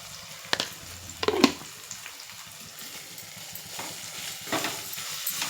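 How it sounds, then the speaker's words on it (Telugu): Chilli powder and salt fry on a low flame for egg biryani, a soft steady sizzle broken by a few sharp spoon scrapes and stirring clatters close by, with no talking. "సిమ్లో పెట్టుకుని మాడిపోకుండా"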